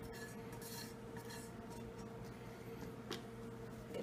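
Cooked egg whites are spooned into a Tupperware container in a kitchen, giving quiet scraping and soft clinks of a utensil against the dish, faint and irregular, with a brief sharper knock near the end.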